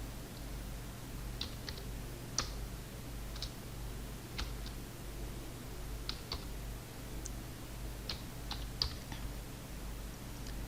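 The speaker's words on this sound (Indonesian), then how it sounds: "Sini saya ketikkan sandinya." A password being entered on a computer keyboard, a short series of light, separate key clicks in an irregular rhythm, close and fairly quiet over a steady low hum.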